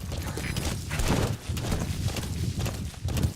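Rhythmic hoofbeats of a horse moving at speed in Metal Gear Solid 5: The Phantom Pain, steady and close, with some game-like ambient noise underneath.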